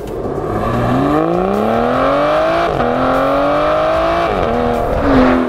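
An Aston Martin Vanquish supercar revs hard and close, its naturally aspirated engine note climbing steadily, dipping briefly between gear changes, then rising again in a loud, continuous roar with no talking.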